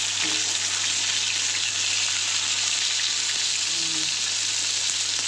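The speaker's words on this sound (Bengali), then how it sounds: "দেখো মাছটা বেশ লাল লাল করে একটু ভাজলে খেতে ভালো লাগে" Fish frying in a pan until reddish for a morning meal gives off a dense, continuous crackling sizzle that stays loud and close, with a faint low hum underneath.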